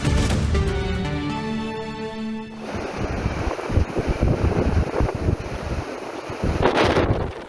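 Strong wind and high surf pound the east shores of Hawaii, a dense roar of rushing air and breaking water that comes in after a brief music intro and stays loud and steady to the end.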